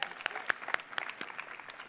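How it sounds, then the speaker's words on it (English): Brief applause from a seminar audience, with sparse rhythmic claps over a soft bed of crowd noise. It is short and fairly quiet. "Give yourselves a round of applause for those who raise your hand."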